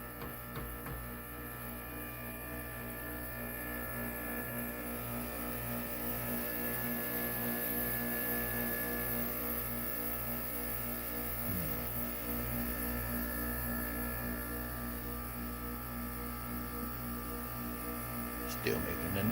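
An air conditioner in a man cave gives off a steady electrical buzz and mains-like hum, droning continuously at a low, even level with no break.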